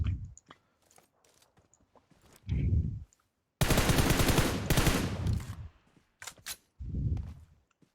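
Bursts of automatic gunfire in the mobile game PUBG Mobile, with short isolated shots followed by a long sustained volley and several loud rattling bursts in between.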